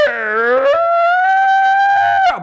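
A mimicry artist's voice imitates a howling fox cub, a single drawn-out, rising and wavering howl that starts with a whimpering dip and holds steady before cutting off, loud and close.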